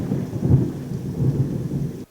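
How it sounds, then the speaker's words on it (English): Deep rolling thunder with steady rain, rumbling in low swells and fading out at the end, no voices. "I guess the thunder stopped now"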